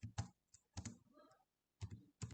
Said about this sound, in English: Then go to Google and type